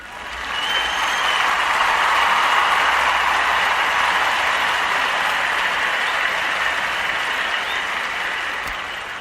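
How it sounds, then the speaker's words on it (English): A crowd claps in sustained, dense applause that swells and holds steady for several seconds, loud and close. "Let's get a big round of applause for those two."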